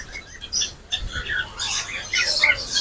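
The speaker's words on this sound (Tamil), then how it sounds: "அந்த வித்தியாசமா இருக்கு பறவை. மரங்கள்ல இருக்கு." Several birds chirp and squawk in short, scattered calls at moderate distance, with outdoor background noise and a hint of voices.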